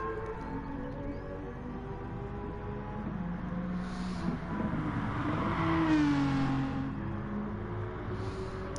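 Mazda Gr.3 race car engine revving and accelerating around Brands Hatch in a sim racing game, a steady loud engine drone with rising and falling pitch sweeps as the car shifts, no talking.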